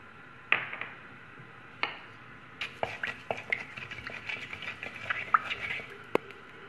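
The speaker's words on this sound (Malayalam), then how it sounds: "വെളിച്ചെണ്ണ ചൂടായി വന്നിട്ടുണ്ട്. അതിലേക്ക് 1/2 ടീസ്പൂൺ ഉലുവ ഇട്ട് കൊടുക്കാം." Half a teaspoon of fenugreek seeds drops into hot coconut oil while a Kasaragod-style fish curry is being cooked, giving a quiet sizzle with scattered small pops and light utensil clicks.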